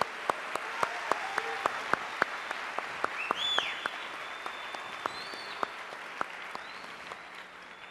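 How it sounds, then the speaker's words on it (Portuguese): A church congregation claps throughout, sharp hand claps spread evenly across the clip under a soft room murmur, with a few brief whistles or voices rising midway. "pode aplaudir com força"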